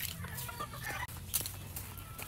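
Chickens clucking close by in short, faint bursts, with a brief sharp noise partway through.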